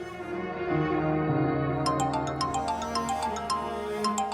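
A mobile phone rings with an incoming call, a melodic ringtone playing steadily and clearly for several seconds over a soft musical background, with no talking.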